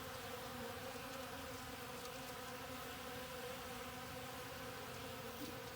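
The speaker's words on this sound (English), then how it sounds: "you feed the bees. You feed the bees." Honey bees buzz faintly while being fed sugar water, a soft, steady drone of many wings with a sustained hum and no breaks.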